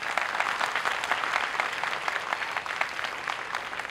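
A comedy debate show audience claps steadily for several seconds, a dense, even patter of many hands at moderate volume, with no one speaking over it.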